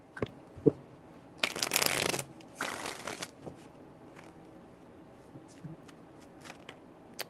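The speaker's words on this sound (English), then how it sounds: "Three shuffles." Tarot cards being shuffled by hand in two brisk riffling bursts, each lasting about a second, up close, with soft taps and card handling before and after.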